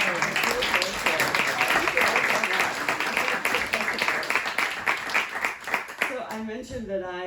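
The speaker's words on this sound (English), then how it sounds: "Another round of applause." An audience at a poetry cafe gives a sustained round of dense applause that fades out near the end as a single voice begins speaking.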